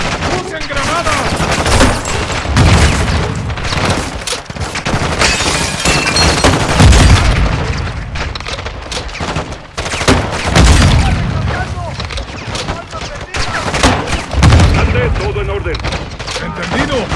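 Dense, sustained gunfire and bursts from a firefight against a Mexican cartel in the video game Call of Duty Modern Warfare 2, loud and continuous with rapid volleys and booms, while voices shout over the battle.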